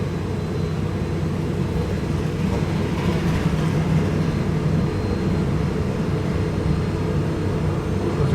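A train rumbles steadily through the Train Fever video game, a constant low mechanical drone with a faint swell in the middle, continuous and unbroken throughout.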